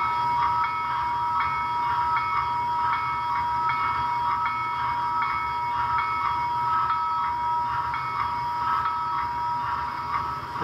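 Bell on a Broadway Limited HO scale USRA Light Pacific model locomotive with a Paragon 3 sound decoder, ringing in a steady repeating rhythm, close and clear over a constant electronic hum.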